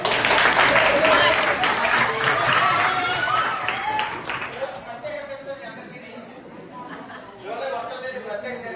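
An audience at a school motivation session in Vizianagaram bursts into loud clapping that fades after about four seconds into scattered claps and murmuring chatter, with voices talking underneath.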